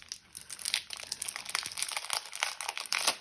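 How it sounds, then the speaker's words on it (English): Stamp dies are pulled from their storage sleeves at a scrapbooking desk, making close, continuous crinkling and rustling of plastic and paper with small sharp crackles throughout. "So let me pull the dies out that would go with this set."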